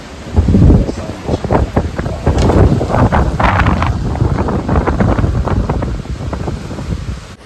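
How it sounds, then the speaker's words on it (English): Hurricane-force wind roars steadily against the microphone during Hurricane Milton at Ormond By The Sea, a loud continuous buffeting rumble with gusty surges throughout. "extreme winds blowing that far north to account for the fact that the wind still rising"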